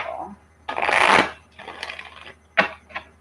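A deck of tarot cards shuffled during a live reading, a quick riffle burst followed by softer shuffling rustles and a couple of sharp card taps, close and without talk.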